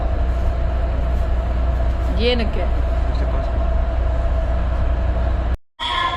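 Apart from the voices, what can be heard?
Palm Atlantis monorail train ride, Dubai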